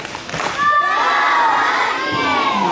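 Schoolchildren at a morning assembly shout a Husky cheer together, a loud, sustained crowd of young voices with cheering and a few thumps.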